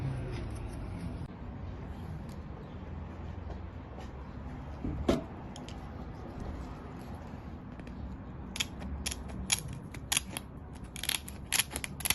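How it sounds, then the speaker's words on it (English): Scissor-like cutters snip through the plastic tab of a 2019 Honda Civic wind deflector, giving one sharp close click early, then a quick run of small crisp snips near the end over a quiet background. "Grab your cutter and just cut this piece right here"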